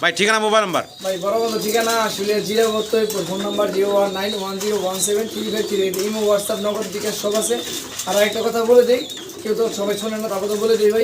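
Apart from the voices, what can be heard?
fancy pigeons cooing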